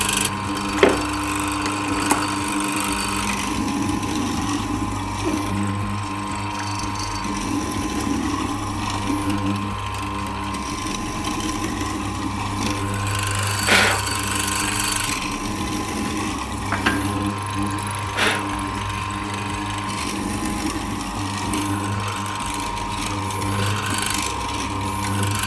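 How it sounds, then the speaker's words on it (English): A SIP bench morticer cuts a mortise into wood in a succession of passes, giving a steady mechanical motor hum with repeated grinding and chiselling bursts; close and continuous, with no speech. "we can bring this down and actually cut our mortise in a succession of passes"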